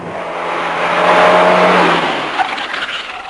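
A 1984 Peugeot 205 GTI driven hard up a hill climb course, its engine revving loudly as it passes close by, with a brief tyre squeal and the note swelling then fading.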